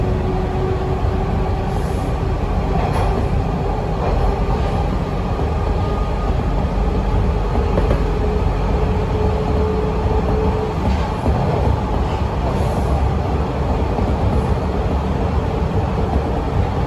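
Toronto TTC Line 2 subway train rumbling steadily as it pulls into Runnymede Station, with a continuous loud low-end roar, a faint rising whine and occasional clanks from the car, no talking.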